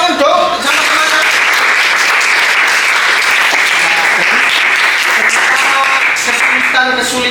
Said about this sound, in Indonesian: Tepuk tangan dong sama semangat